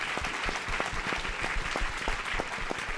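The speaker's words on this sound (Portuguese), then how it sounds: "Palmas para os nossos convidados." Steady audience applause at a talk on fires in nature, with dense, even clapping holding at a constant level for the whole stretch and no voices over it.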